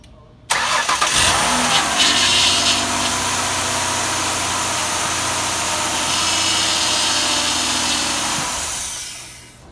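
A 2003 Mazda Tribute engine cranks and catches with a sudden loud start, then settles into a steady, close-up idle that runs for several seconds before fading slightly at the end.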